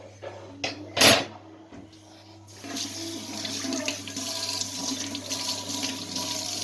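Tap water runs while dishes are washed at a kitchen sink, starting with a few brief splashes and a louder gush, then settling into a steady, moderately loud stream that flows until the end.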